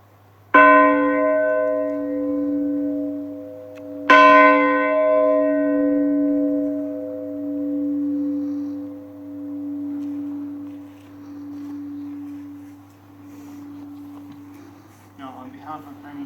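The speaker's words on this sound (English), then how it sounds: "Michael Kelly from Mohill, County Leitrim, who will toll the bell for Matthew Sadler from Mohill" A church bell tolls twice at a Titanic commemoration in Lahardane, each loud, ringing strike leaving a long, slowly fading hum, with faint sounds near the end.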